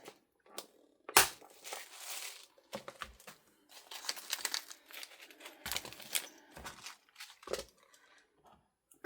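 Paper is handled, crumpled and torn while making tags and altered playing cards for a journal, giving irregular close rustles, crinkles and sharp rips in short bursts with quiet pauses between.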